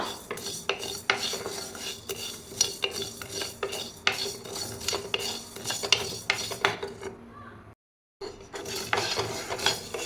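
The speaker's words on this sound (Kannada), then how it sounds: "ಫಸ್ಟು ಧನಿಯಾ ಹಾಕ್ಕೊಳ್ತೀನಿ ಸಣ್ಣ ಉರಿಯಲ್ಲೇ ಹುರ್ಕೊಳ್ಬೇಕು" Coriander seeds dry-roasting over a low flame in a pan for chicken masala powder, a close, continuous scraping and rattling of seeds stirred with a metal spoon, broken by a brief silence near the end.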